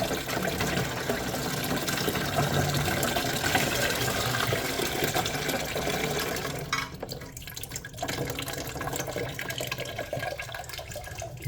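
Water pours steadily from an old toilet tank into a bucket while the flush valve is being replaced, a continuous close rushing splash that thins and drops off near the end.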